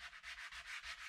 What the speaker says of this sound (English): I need to sand it a bit